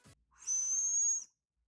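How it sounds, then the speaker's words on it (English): A single sustained high whistle, blown through a cheap lifesaver-style hard candy shaped to whistle, holds steady for under a second, clear and close, with faint breathy hiss around it. "Say hello to these lifesaver ripoffs that you can whistle through."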